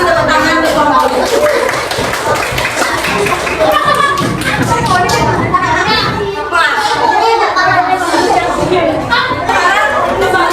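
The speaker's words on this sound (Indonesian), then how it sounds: "kita kasih apresiasi dulu tepuk tangan untuk kelompok ini" Classroom students clap for a group of classmates, a dense stretch of clapping mixed with children's chatter and laughter throughout.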